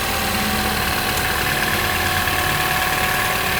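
A Citroën C4 THP turbo engine idles steadily up close, a smooth even mechanical hum with a broad whirring hiss and no chain rattle, heard alone.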